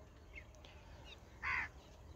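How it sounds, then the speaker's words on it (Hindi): Crows caw in a neighbouring farm field, faint and distant, one louder harsh call standing out briefly over a low outdoor background hiss with a few softer calls around it. "200-250 कौवे हैं"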